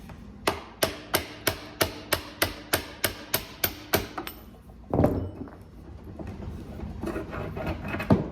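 Hammer striking a metal punch to drive out a small washer from its seat, a rapid run of about a dozen sharp, evenly spaced close taps, then a duller knock and some shuffling handling noise.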